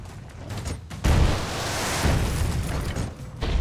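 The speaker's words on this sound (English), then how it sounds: "fire a straight rocket that you can sometimes outpace." Straight rocket fired and exploding in Broforce: lighter crackling action gives way to a sudden loud blast, followed by a sustained rumbling roar of burst and debris, no voices.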